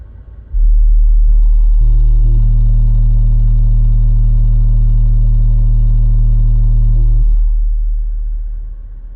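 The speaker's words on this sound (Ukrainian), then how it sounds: "поїхали замірчик на 38 Гц, зараз гучність на 32 і поїхали" A very deep, steady 38 Hz test tone from a UAudio Icon active subwoofer booms continuously for several seconds, loud and sustained with a rumbling, droning quality, then fades out.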